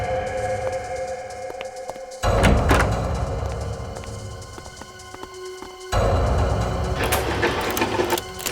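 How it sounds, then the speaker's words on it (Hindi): A stuck door is rattled and shaken in two loud bursts of knocking and clattering, close by in a quiet building, with no talking. "भाई ये दरवाजा खुल नहीं रहा है।"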